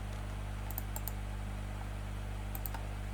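A few faint computer keyboard keystrokes click in two small clusters over a steady low background hum, while text is typed into a word processor.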